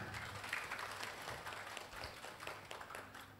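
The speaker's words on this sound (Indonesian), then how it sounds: "Tepuk tangan untuk para tamu kita." An audience at a business presentation in a hotel gives the guests a round of applause. The clapping is faint, busy and continuous, with a few sharper claps standing out.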